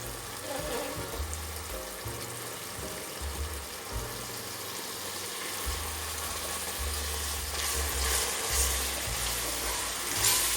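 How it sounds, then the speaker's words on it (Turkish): Flour is stirred into caramelized onions for onion soup, giving a continuous soft frying sizzle with a low rumble beneath, steady and close, slightly louder toward the end. "Şimdi un katacağım. Onu da bir güzel kavuracağım."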